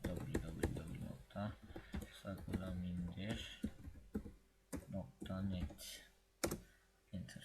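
Close, light clicking of a computer keyboard being typed on in short bursts, mixed in with someone speaking Turkish throughout.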